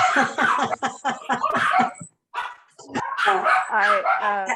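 Dogs bark close by in a rapid, excited run of yips and barks, pausing briefly before starting again, with a voice heard at times.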